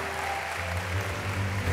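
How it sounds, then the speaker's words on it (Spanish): A church congregation claps for the Lord during a miracle-testimony service. The steady applause is brief and dense over a sustained low tonal hum. "¡Un aplauso"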